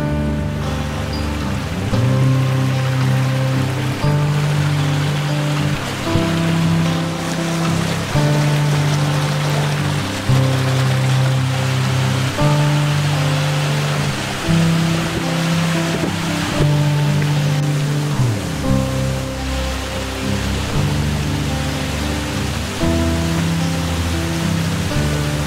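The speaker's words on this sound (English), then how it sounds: "They've got a bench here if you just want to sit back and enjoy the waterfalls." Waterfalls at Big Hill Springs in winter, a steady broadband rush of falling water with no break, loud and close, with a low tonal hum running beneath it.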